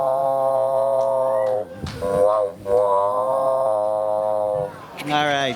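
A man at a live variety show mimics a train whistle with his voice: long sustained, loud tones that slide and waver, broken by a couple of short breaths, held on and off for several seconds.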